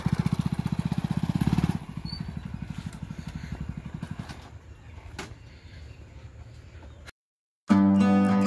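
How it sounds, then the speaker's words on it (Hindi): A motorcycle arrives in an Indian village carrying an irrigation pump engine, its engine throbbing loudly in steady pulses at first, then fading to a quieter rumble, followed by a short silence and a sudden burst of different engine noise. "इंजन आता हुआ बाइक से"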